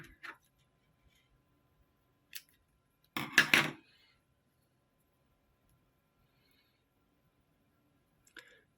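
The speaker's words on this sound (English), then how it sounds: "I'm going to snip a bit of that off now" Fishing line is snipped with scissors while rigging for eel fishing. There are a few sharp clicks and then a quick close cluster of snips, with quiet between them and no talk.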